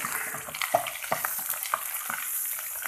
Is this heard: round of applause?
no